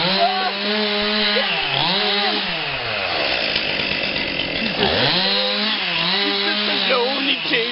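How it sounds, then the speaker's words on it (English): A chainsaw trims a tree limb, loud and close, its engine revving up and bogging down repeatedly as the chain bites into the wood, with a sustained high-pitched cutting whine between surges. "Trim the limb. Gotta go with the chainsaw."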